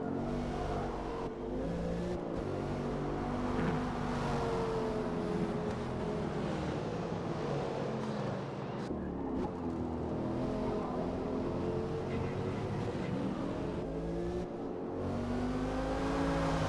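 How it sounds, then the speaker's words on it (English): A Mercedes C63 in a racing video game roars steadily throughout, its engine note rising and falling with revs while a turbo whine rides over the loud, continuous drone. "The turbos of a C63 are always menacing to hear."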